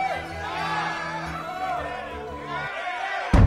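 A pirate crew cheers and shouts for Captain Bonnet, a dense crowd of overlapping voices and whoops held over a low musical bed that cuts off near the end.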